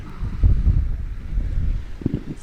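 Wind and ocean waves at Sandy Hook beach, low gusty rumble of wind on the microphone with rolling surf underneath, surging again near the end.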